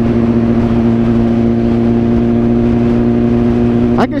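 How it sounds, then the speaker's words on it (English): A BMW S1000RR motorcycle's exhaust drones loud and steady while riding, a constant engine hum with a brief rising rev near the end, heard continuously with no talking. "I can still hear the shit out of my exhaust. Like, it's still super loud."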